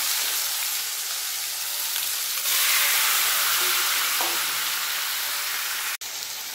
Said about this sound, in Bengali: তেলের মধ্যে জিরে ফোড়ন আর দুটো শুকনো লঙ্কা দিয়ে দেবো। এর মধ্যে দিয়ে দেবো ম্যারিনেট করে রাখা মাংস।